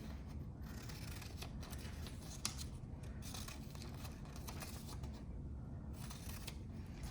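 Paper is cut with scissors for a Grinch climber craft, a steady run of soft close snipping and rustling with a few brief pauses and no voices.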